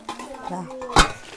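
A person talks briefly while handling the metal inner vessel of a milk cooker, then it knocks with one sharp, ringing clank near the end, close to the microphone.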